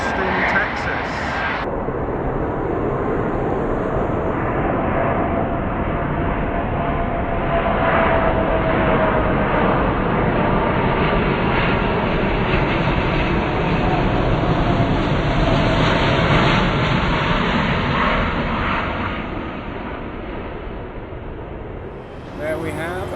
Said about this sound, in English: That's the British Airways A350 coming in from Austin, Texas.